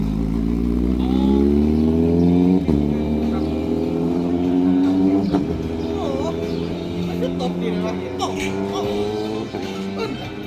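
A Kawasaki Z800/Z900 motorcycle fitted with a quickshifter revs loudly up close, its engine drone rising in pitch and cutting out sharply at gear changes. Faint talk runs underneath.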